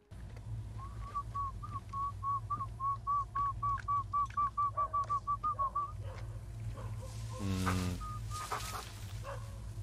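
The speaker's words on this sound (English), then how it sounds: "Whistling to attract their attention." A person whistles a quick run of short, repeated chirpy notes to attract animals in the series Chernobyl, over a constant low hum, then a brief yelp and clatter follow.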